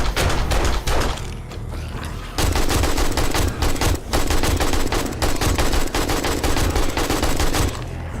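Sustained rapid gunfire aimed at a strange creature in the zombie survival game 7 Days to Die, loud dense bursts of shots with brief pauses between volleys.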